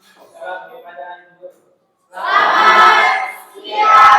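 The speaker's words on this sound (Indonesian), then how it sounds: "Mari kita berikan tepuk tangan yang meriah untuk kita semua." Applause from a class at the end of a lesson, a broad burst of clapping rising after a short stretch of speech, pausing briefly and then swelling again, fairly loud and close.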